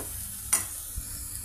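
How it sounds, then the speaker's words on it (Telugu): Onion chili paste frying in oil for ulli karam, a faint steady sizzle with one brief spoon scrape and a soft knock, alone. "మన ఉల్లిపాయ కారం ఈ విధంగా ఆయిల్తో ఫ్రై అవుతుంది"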